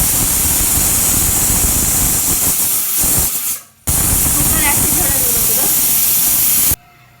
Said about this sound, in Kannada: ಸೀಟಿ ಹೊಡ್ಯಾತದ ಕುಕ್ಕರ್